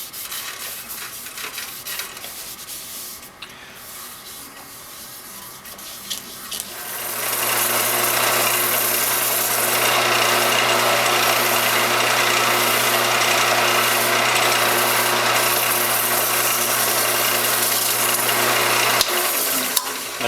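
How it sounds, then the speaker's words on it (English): Denibbing an oiled hackberry bowl on a spinning wood lathe, with a steady broadband abrasive hiss over the lathe's constant motor hum, starting after a few seconds and running on evenly to the end. "So I'm going to clean the oil off with alcohol and then denib. You can do this by hand or with the lathe spinning."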